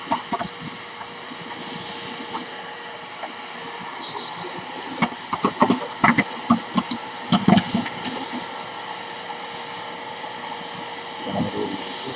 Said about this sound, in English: Now you're gonna want to grab your vacuum.